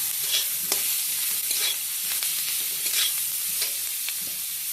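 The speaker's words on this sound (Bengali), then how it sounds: "এরপর আবারও ভালোভাবে নেড়ে চেড়ে নেওয়া হবে।" Bitter gourd frying in a wok with turmeric, stirred with steady intermittent scrapes and clicks over a continuous close sizzle.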